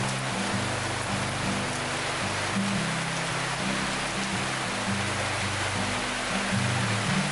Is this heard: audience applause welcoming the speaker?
no